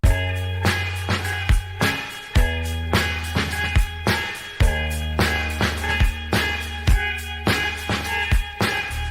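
Sampled chunk of ESG's UFO record played back on an MPC, a loud repeating electronic loop with punchy low thumps and bright tonal hits in a steady rhythm.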